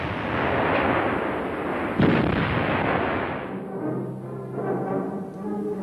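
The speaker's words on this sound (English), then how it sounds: "These Waffen SS troopers are serving their pieces in southern Russia in the late summer of 1943." A German 88 mm gun fires as artillery, crewed by Waffen SS troops in southern Russia in late summer 1943: a loud, sustained roar of gunfire with a heavy blast near the middle, trailing off into rumbling echoes.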